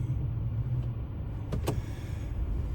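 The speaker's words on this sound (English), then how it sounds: "Let's go fire up the van and see if we've got our parking sensing system back" A van's engine idles with a steady low rumble, and two sharp clicks come as it is put into gear. No speech is heard.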